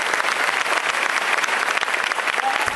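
Warm applause rises from a church congregation gathered for a Bible study in Lima, Peru: dense, steady clapping from many hands throughout, with no break.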